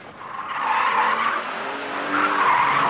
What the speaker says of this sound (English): keep the M3 sliding for a complete lap, just like this